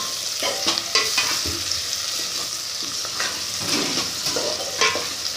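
Fried onion with turmeric powder sizzles in a pan for a puffed-rice mandakki snack, with frequent close scrapes and taps of a spoon stirring over a constant frying hiss.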